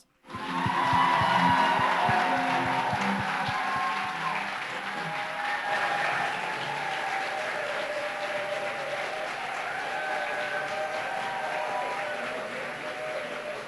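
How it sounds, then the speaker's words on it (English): Audience at a peace education conference clapping to welcome a speaker, loud dense applause that starts abruptly, peaks early, then settles into a steady, slowly fading ovation. "Let us welcome him with a big round of applause"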